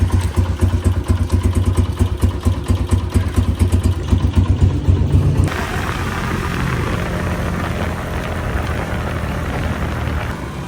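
A heavy motorcycle idles after a first-kick cold start with a throbbing, fairly loud engine rhythm that shifts abruptly midway to a smoother, quieter hum.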